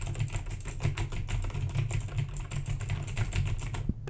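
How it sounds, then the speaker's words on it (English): Rapid, steady clacking of keys on a Razer mechanical computer keyboard, close and fairly loud, a dense continuous typing rhythm with no talking. "This is my Razer keyboard. So if you listen to how this sounds,"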